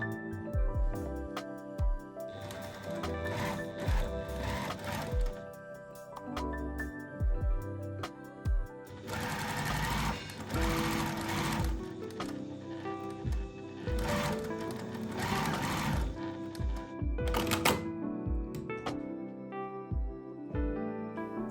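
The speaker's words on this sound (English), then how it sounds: "Edge stitch the hem." Sewing machine edge stitching the hem of a bias-cut skirt, its whirring bursts starting and stopping intermittently beneath background music.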